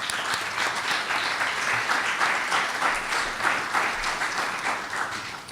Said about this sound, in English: Can we just do a quick round of applause?